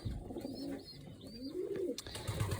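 Pigeons coo in low, soft, rolling phrases, several in a row, over a steady outdoor background with faint high chirps.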